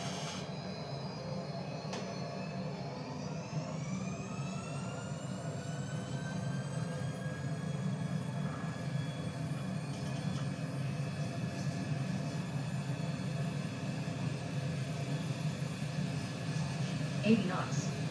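Airliner engines in a flight simulator spool up toward takeoff thrust, a steady roar with rising whining tones that settle and hold, faint and continuous, as someone speaks over it.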